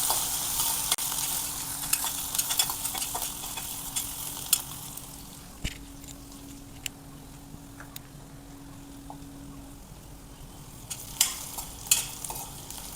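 Finely chopped onion and garlic sautéing in a pan for a cabbage bhaji, a quiet continuous sizzle with scattered sharp ticks and scrapes from stirring, close and free of speech.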